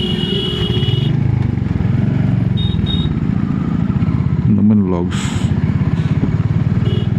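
A Royal Enfield Hunter 350 motorcycle engine thumps in a steady, close, low rumble throughout, with a brief rev partway through. Someone talks over it.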